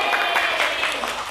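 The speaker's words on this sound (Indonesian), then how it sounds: "tepuk tangan untuk kita semua" Brief burst of clapping from a group in a classroom lesson, a dense, steady patter of many hands that fills the moment evenly.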